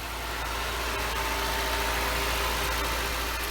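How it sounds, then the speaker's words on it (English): A Nissan Juke engine idles steadily with a low, even hum and faint vibration, recorded up close with no voices over it. "Right, so I've got the motor started."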